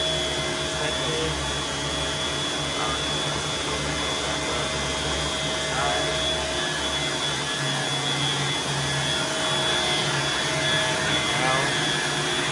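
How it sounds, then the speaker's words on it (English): A fire pump runs through its weekly maintenance test with a steady, loud mechanical whirr and a sustained hum. It is unbroken and even throughout, with faint indistinct voices now and then. "Now, our fire pump is running."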